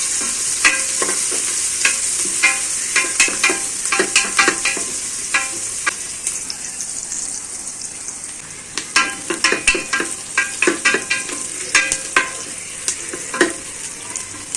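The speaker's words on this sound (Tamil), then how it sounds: "நல்லா வதங்கிட்டு இருக்கு வெங்காயம்." Sliced onions sauté in a pan for chicken biryani, with a steady close sizzle and frequent scraping, clicking stirs that come in quick bursts, louder toward the end.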